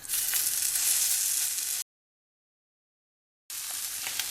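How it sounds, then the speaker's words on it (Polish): Beef patty portions sizzle on a very hot dry pan, a loud, steady broadband hiss that stops abruptly for a couple of seconds, then resumes just as strongly. "Patelnia jest bardzo mocno rozgrzana i wykładam porcję mięsa"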